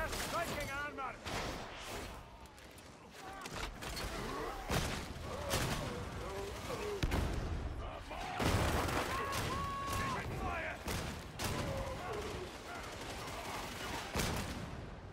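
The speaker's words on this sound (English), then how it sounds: "It's a grenade." Grenade blasts and bursts of gunfire in a dark, Bloodborne-like action video game, dense and loud with music and effects throughout, while someone talks over the combat.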